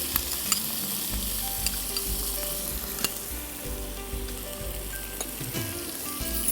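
Garlic and chicken frying together in a pan, a loud, dense, steady sizzle with occasional utensil scrapes and clinks, close up and without voices.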